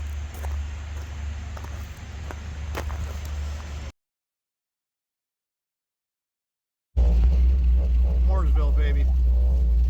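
A Chevrolet Nova roars as it is raced on the street in Mooresville, North Carolina, a loud, steady engine drone that cuts out abruptly for a few seconds and then returns even louder, rising and falling through the gears, with voices talking over it.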